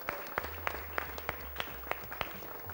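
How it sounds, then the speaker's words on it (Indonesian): Studio audience on an Indonesian talk show claps in a slow, even rhythm, sharp distinct claps roughly every third of a second over a low steady hum, fairly quiet overall. "Berikan tepuk tangan dong yang meriah buat kita semua."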